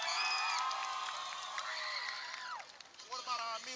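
Stadium crowd at a high school football game cheering for the Warrior cheer team, a broad roar with rising shouts that fades toward the end, where scattered voices and chatter remain.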